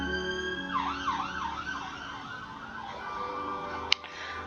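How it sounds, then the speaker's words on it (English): A wailing emergency siren in Genshin Impact gameplay rises and falls repeatedly, moderately distant, fading over traffic rumble, followed by a sharp click. "It was a siren."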